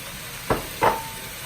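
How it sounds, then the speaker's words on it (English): Okra tipped into a hot pan of sausage and shrimp, two quick stirring scrapes followed by a brief sizzle, close and fairly loud without any talk. "Now I'm going to go ahead and I'm actually going to add my okra"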